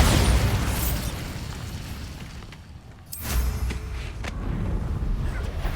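A Bombarda blasting spell goes off in Hogwarts Legacy: a loud, sustained roaring blast that dips briefly midway, then surges again into a second booming burst, up close and filling the mix.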